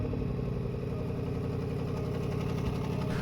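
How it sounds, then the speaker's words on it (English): A Range Rover engine idles steadily with an exhaust leak, giving a close, continuous rumble with a rapid ticking, puffing clatter layered on top and no voices. "we still had an exhaust leak."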